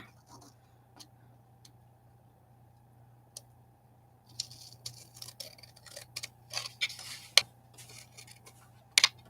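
Quiet room with a steady low hum, then a run of irregular soft snips and clicks from scissors cutting paper, close by.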